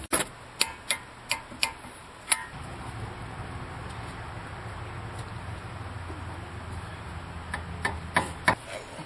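A torque wrench tightens the top ball joint nut to 37 foot-pounds during front axle work on a car, giving a run of sharp, evenly spaced ratcheting clicks, a quieter stretch, then a few more clicks up close.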